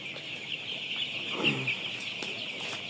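Ten-day-old coloured chicks in a poultry brooder keep up a steady, shrill chorus of peeping, with a brief, louder cluster of calls partway through.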